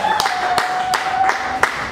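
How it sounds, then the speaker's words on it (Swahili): A church congregation claps at a preacher's call, sharp hand claps landing in a loose repeated rhythm, fairly close and loud, over a faint steady tone. "Piga makofi pale ulipo."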